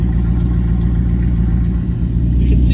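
A 1971 Comet's engine idles loud and steady after a carburetor clean, a continuous low rumble with a slight rise at the end, heard up close with no talking.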